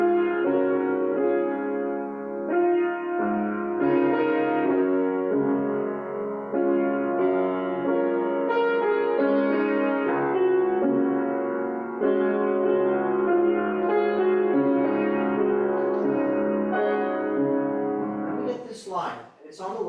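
Solo piano plays the main theme of a song from Into the Woods: a sustained, flowing melody over rich chords, steady and moderately loud for the whole stretch, with a brief disturbance right at the end.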